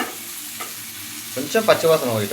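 Ingredients for peanut chutney frying and being stirred in a pan, a steady sizzle that grows busier with clattering stir strokes toward the end, with no talking.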